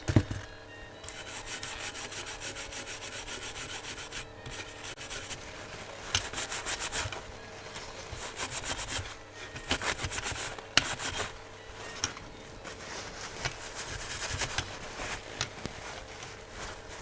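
Blue roll paper towel wipes over a work surface while a kit is built, producing repeated dry rubbing and scraping strokes at close range with brief pauses between them.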